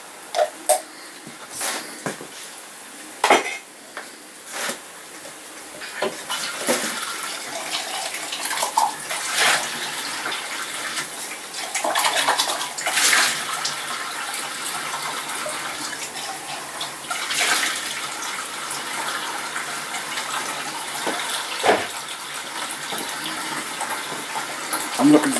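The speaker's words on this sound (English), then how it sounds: "washing up a plate, I should say, not washing out. Soak for a few." Running water splashes as a plate is washed up at a sink, steady broadband flow with intermittent clinks and splashes, fairly close, continuing throughout without talk.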